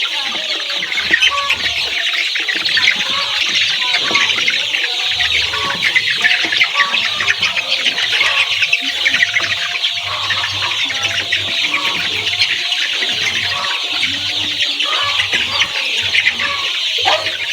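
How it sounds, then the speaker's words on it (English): A flock of laying hens clucks and squawks loudly and continuously as the birds rush for feed, a dense, close chorus of overlapping calls over a low background hum, with no talk. "So when your birds are feeding like this"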